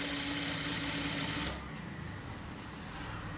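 A sewing machine stitches lining into an Aari-work blouse, running in a steady, fast whirring burst for about a second and a half, then stopping abruptly and leaving quiet room noise.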